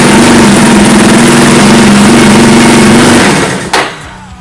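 Yamaha Raptor 350 ATV engine idling loudly up close, then cutting out abruptly when the kill switch is pulled, followed by a brief clunk and quiet.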